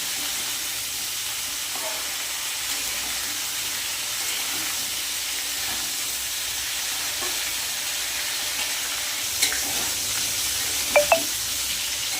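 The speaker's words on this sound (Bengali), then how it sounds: "সবজি কিন্তু এখানে ভাজা প্রায় হয়ে এসছে" Potato, pointed gourd and cauliflower fry in oil in a pan with a steady, even sizzle that holds throughout, plus a few light clinks of stirring near the end.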